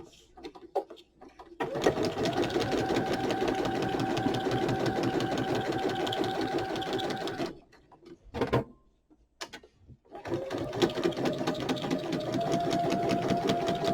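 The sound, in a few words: sewing machine doing a straight stitch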